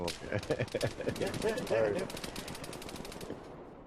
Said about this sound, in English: Looking in the direction where I can hear the gunfire.